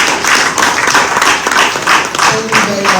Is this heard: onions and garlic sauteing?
no